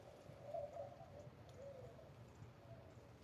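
Birds calling outdoors in the morning, a soft repeated cooing like pigeons or doves, faint and steady over a low background rumble.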